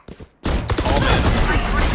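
Rapid bursts of video game gunfire crack out loud and close after a brief quiet start, a dense volley of shots that fills the rest of the moment.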